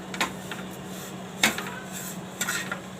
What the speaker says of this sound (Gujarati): તો હવે આપણે આમાં થોડીક ખાંડ છે એ આમાં નાખી દેવું, અને આને આપણે હલાવી લેવું।